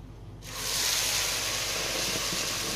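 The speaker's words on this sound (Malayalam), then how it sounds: "അതുകൊണ്ട് ഞാൻ ഇപ്പം 2 ഗ്ലാസ് വെള്ളം ഇതിനകത്ത് ഒഴിക്കാൻ പോവുകയാണേ" Two glasses of boiling water are poured into a pot of rice and beef, with a quiet start giving way to a sudden loud, sustained hiss and sizzle close by.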